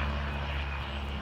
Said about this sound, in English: and this airplane flying over right now.